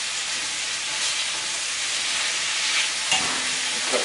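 Oil sizzles steadily in a frying pan while shrimp, sausage and potatoes cook, a broad constant hiss close by with a few brief clinks and stirring sounds near the end.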